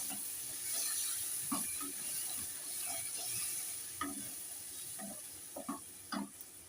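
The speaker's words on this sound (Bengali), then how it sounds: "এবার আমি আরেকটু নাড়ছি" Fish curry with taro simmering in a pot after a splash of water, stirred with a utensil: soft sizzling under intermittent scraping and knocking strokes, fairly quiet and close, with no speech.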